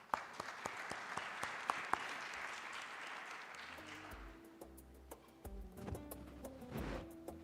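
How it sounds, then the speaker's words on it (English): Applause from a conference audience welcoming distinguished guests to the stage at a sustainable energy and environment event. Steady clapping fills the room for a few seconds, then thins and fades as background noise and a low hum take over. "Please join me in giving them a warm round of applause."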